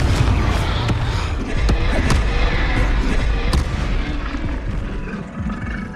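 A Confringo fire spell cast in the Hogwarts Legacy game on PS5, a loud, dense burst of explosive blasts and crackling impacts with sharp booming hits throughout, dominating the mix without any talk.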